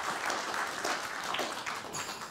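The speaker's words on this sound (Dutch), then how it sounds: "Hartelijk applaus voor Paul Vugts" Audience applauding a guest speaker, Paul Vugts, at a Dutch talk on organised crime; steady dense clapping fills the whole stretch at moderate level, with a faint voice underneath.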